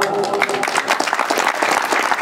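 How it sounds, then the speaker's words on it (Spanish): A community audience at a Thanksgiving energy event in Mocolikia applauds a town mayor, with steady, dense clapping that stays loud and even throughout. "fuerte aplauso"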